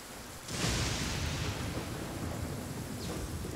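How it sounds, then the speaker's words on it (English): Rain falling in the Genshin Impact video game, a steady broadband hiss that swells in abruptly and holds at an even, moderately loud level with no talking. "I like when it rains."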